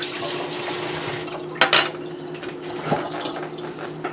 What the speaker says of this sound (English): Let me wash my spoon off.